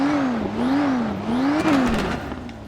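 A car engine in the FiveM driving game revving up and down in repeated wavering swells while driving, a steady close engine drone with brief clattering bursts, no talk.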